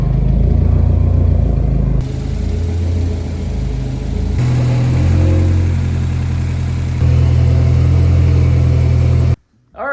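A 2024 Subaru WRX VB TR on a custom tune runs a dyno pull. The engine roars loudly and steadily, climbing in distinct stages, then cuts off abruptly near the end.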